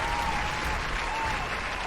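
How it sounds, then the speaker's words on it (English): Enthusiastic clapping from many hands forms a dense, steady wash of applause that stays at an even level from start to finish, with no pause. "It's not really a golf clap, that's more of like an enthusiastic clap"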